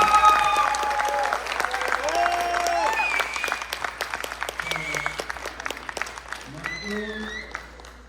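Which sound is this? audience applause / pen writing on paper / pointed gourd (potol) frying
audience applause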